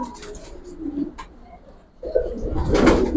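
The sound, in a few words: pigeons cooing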